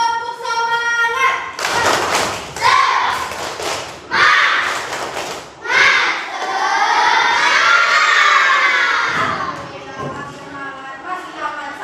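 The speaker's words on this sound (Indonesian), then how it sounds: "Tepuk semangat." Children in a classroom perform a rhythmic spirit clap, bursts of clapping and taps mixed with loud group shouting and cheering, with voices chanting along throughout.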